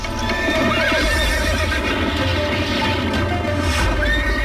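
Cartoon horses neigh and whinny loudly over rapid galloping hoofbeats, a dense, continuous stampede of clip-clopping with shrill calls rising above a heavy low rumble.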